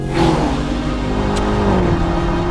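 A Range Rover Sport SV's 4.4-litre twin-turbo V8 revving loud and close, a deep throaty roar that rises and then holds a sustained drone.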